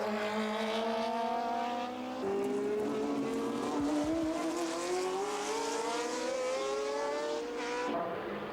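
Porsche race cars at Sandown circuit in Australia, engines screaming and rising in pitch as they accelerate past, with occasional gear-change drops and a brief tire squeal.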